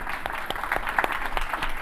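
Audience clapping at a business leaders' salon on housing in Atlanta, a short steady round of applause from a small crowd, moderately close, with no one speaking.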